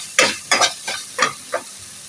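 Finely chopped onions are stirred while sautéing in a pan for garlic pepper rice, giving five rhythmic scraping sweeps over a faint sizzle, fairly close and clear.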